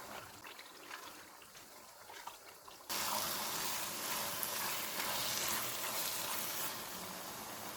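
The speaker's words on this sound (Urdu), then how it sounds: "چولہے کو میڈیم رکھیں گے، ان کو گھی علیحدہ ہونے تک بھونیں گے۔" Grated carrots hit hot ghee in a pan for gajar halwa, a quiet kitchen hush jumping abruptly to a steady, loud sizzle and crackle that holds on without a break.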